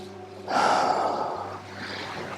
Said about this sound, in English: Last round of breath.